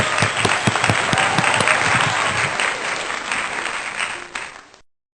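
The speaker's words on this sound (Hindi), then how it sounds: "तालियां।" A congregation at a Sunday worship service at Vishwasi Mandir church applauds with full, dense clapping that holds steady for several seconds before fading out.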